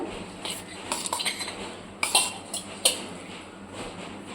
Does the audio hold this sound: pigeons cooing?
no